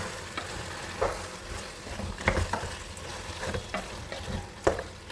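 Beef biryani with masala and yogurt stirred in a pan, soft sizzling under intermittent scraping and wet stirring strokes, close and moderately quiet, with no talking.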